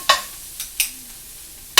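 Broccoli spigarello greens stirred in a hot pan, a few sharp scraping strokes spaced apart over a faint sizzle, close up and alone.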